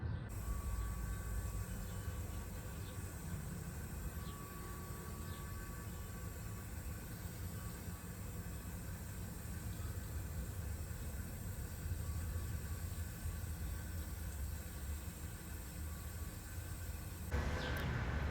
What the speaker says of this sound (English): I'm gonna go ahead and rinse these off outside of the greenhouse really quickly